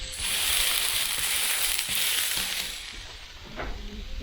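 A smashburger sizzles on a griddle, a steady broadband hiss running near and loud for most of the clip, easing slightly toward the end with a few faint clinks.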